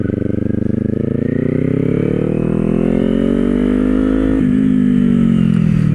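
Kawasaki Z400 motorcycle cruising on a highway, its engine droning steadily and loud with a rising pitch as it pulls, then a brief dip like a gear change before the tone climbs again, wind rush underneath.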